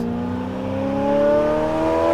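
A modified Ferrari F8 Tributo fitted with pure turbos and about 900 horsepower revs up with no exhaust, a rising, whirring engine note that climbs steadily and holds near and loud, with no talking.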